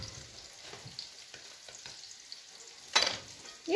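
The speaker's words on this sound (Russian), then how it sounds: "Пока жарятся баклажаны, подготовим перец." Soft, continuous sizzling of eggplant frying in a pan, with a few louder crackles and stirring noises near the end.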